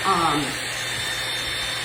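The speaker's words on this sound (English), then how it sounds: "if you force dry using a blow dryer" A blow dryer runs steadily, force drying a flower crown craft piece, a close, loud continuous airy hiss over the whole stretch, with a voice briefly over the start.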